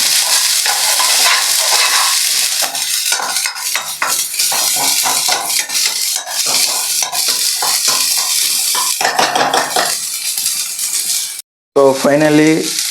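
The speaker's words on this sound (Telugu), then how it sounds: "పసుపు వేసుకొని మళ్ళీ ఒకసారి బాగా కలిపేయాలన్నమాట." Onions, tomato and green chillies with turmeric being stirred in a pan for an oil-free chicken dish, a loud continuous sizzle with scraping utensil strokes against the pan, a brief break near the end and a faint voice after it.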